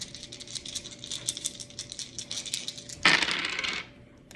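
Dice rattle and clatter for Qwixx, a quick run of small hard clicks on a surface that ends in a louder tumble and then stops.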